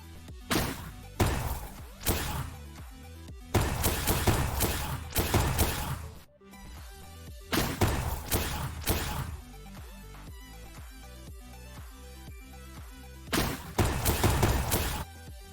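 Gunfire in the Blacklight Arena shooter game comes in loud clustered bursts of sharp shots, separated by quieter gaps with faint repeated ticks, close and without speech.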